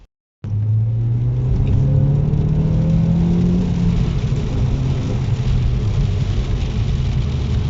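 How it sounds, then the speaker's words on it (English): A car pulls away from a roundabout under moderate acceleration, its engine rising in a steady, close rumble with a climbing tone that then holds at a level drone throughout. "There you go, like we say, a respectful amount of acceleration."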